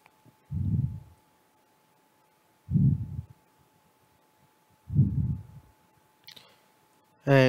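Computer mouse clicks, three soft single clicks spaced about two seconds apart in a quiet room, followed by a short burst of speech at the end.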